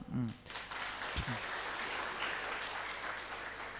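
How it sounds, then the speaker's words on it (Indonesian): An audience at a spiritual lecture claps in a sustained, dense wash that begins abruptly and holds steady, with a brief voice at the start. "Tepuk tangan dong."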